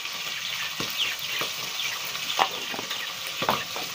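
Meat sautéing in a pan with paprika, black pepper and meat spices, a steady close sizzle broken by several brief stirring scrapes, with no voices.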